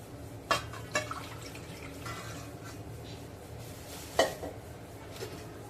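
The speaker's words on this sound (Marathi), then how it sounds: "अशा ह्या कैऱ्या आपण स्वच्छ पाण्याने धुवून घेऊया" Raw mangoes being washed in clean water; quiet sloshing and dripping with a few distinct splashes and knocks of fruit against a vessel, close by and without speech.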